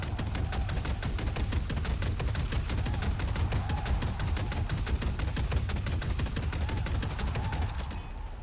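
Video game turrets firing a sustained stream of rapid automatic gunfire, dense evenly spaced shots that continue loudly and without pause for the whole stretch, no talk over it.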